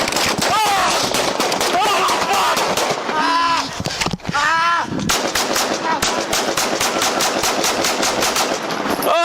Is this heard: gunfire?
yes